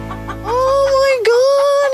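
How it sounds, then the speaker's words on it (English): Chickens in a chook pen on an Australian farm property, with a steady run of clucking and a rising, crowing-like call that carries over the whole stretch, fairly close and loud. "Aren't they beautiful? It's chooks, yes."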